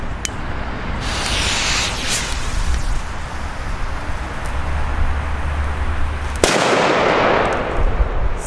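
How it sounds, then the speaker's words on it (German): Blitzknallböller firecrackers of Italian make set off outdoors, each lit by a friction head, giving sharp loud bangs with crackling and a hissing wash, one especially heavy blast near the end. "Unfassbare, schöne Böller."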